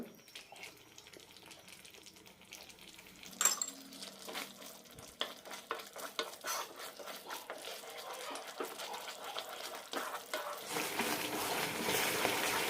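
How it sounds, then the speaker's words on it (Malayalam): Beetroot halwa being stirred with ghee in a pan, heard as soft scraping and occasional light clinks that grow into a steadier, louder sizzling hiss toward the end, with no talking. "ഈ സമയത്ത് തുളരെ ഇളക്കി കൊടുക്കണം അര ടീസ്പൂൺ കൂടി നെയ്യിടാം"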